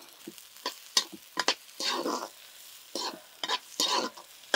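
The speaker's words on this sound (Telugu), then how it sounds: "వెంటనే ఉల్లిపాయలు వేసేద్దాం. ఉల్లిపాయలు బాగా వేగాలండి." Onions frying in a pan for a Telangana-style raw prawn fry, crackling in loud bursts with intermittent sizzling and stirring, no talk.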